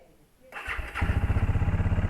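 A Bajaj Dominar 400 motorcycle cold-starts in winter: a brief starter whir, then the engine catches and settles into a loud, steady, pulsing idle close by.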